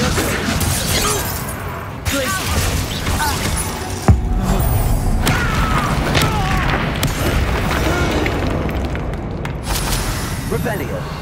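The Incendio fire spell is cast during video game combat, a booming fiery burst with a sharp hit around the middle, surrounded by crackling effects and continuous battle noise while voices shout over it.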